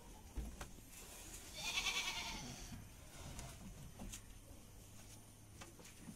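Peranakan Etawa goats on a livestock farm give a single clear bleat mid-clip, fairly near, over low farmyard background noise with occasional knocks.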